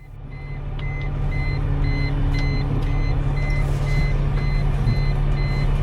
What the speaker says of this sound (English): as long as we don't hear the shallow water alarm